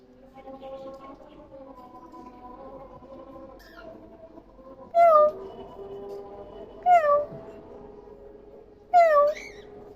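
A pet bird imitates a cat's meow three times, with clear, nasal calls spaced a couple of seconds apart. Earlier, a person talks softly and quietly.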